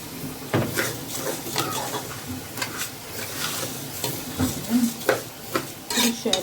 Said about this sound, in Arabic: هنا هحمر بقى الشعريه اهي.